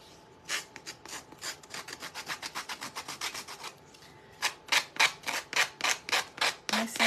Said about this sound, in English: we're just going to use the sanding tool, and we're going to sand the edges off.